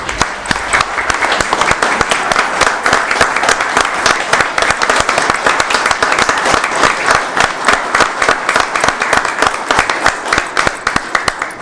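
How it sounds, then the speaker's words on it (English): Audience at a Dunedin city commission work session gives a sustained round of applause, loud, dense clapping that holds steady throughout with a faint crowd murmur beneath. "join me in giving them one more round of applause"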